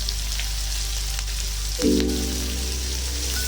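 Fennel, cumin, grated ginger and green chilli frying in oil, a continuous close sizzle with soft crackle and a brief clink partway through, under a steady low hum.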